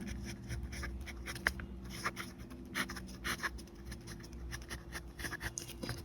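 A marker or chalk scratches across a board in short, uneven strokes during a Class 10 maths lesson, quiet taps and scrapes over a low steady hum with no talk.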